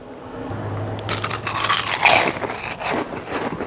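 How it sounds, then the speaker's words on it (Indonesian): Crispy fried rice crackers (kerupuk nasi), made from plain seasoned rice, crunched in close, brittle bites that come as a few quick crackling bursts with no talking. "Oke, sekarang kerupuknya kita cicipin ya."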